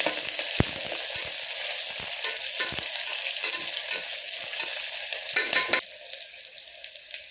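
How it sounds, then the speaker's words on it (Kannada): Onions fry in a pan for a pulao, giving a steady broadband sizzle with a few sharp clicks and scrapes of stirring, close and alone without talk, softening slightly near the end. "ಈರುಳ್ಳಿ ಹಾಕ್ತೀನಿ. ಈರುಳ್ಳಿ ಸ್ವಲ್ಪ ಫ್ರೈ ಆಗ್ಬಿಡಿ."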